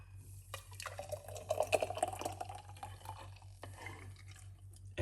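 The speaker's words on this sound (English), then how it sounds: "what I'm gonna do is pour it out into my bowl." Beet juice poured into a bowl makes a quiet, soft liquid trickle with small drips and splashes, close by, lasting a few seconds.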